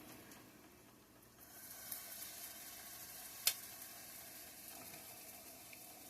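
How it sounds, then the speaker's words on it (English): Potatoes frying in hot grease in a skillet, a soft continuous sizzle that swells after the first second and carries a single sharp pop, close but fairly quiet, with no talking. "Put it in the skillet. You want your skillet hot with grease, that way they ain't greasy."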